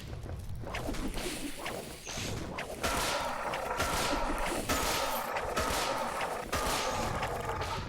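Rapid bursts of whip explosions in Rec Room Crescendo, a dense, loud run of sharp cracks and booms layered over each other with whooshing swipes, continuous and close with no talking.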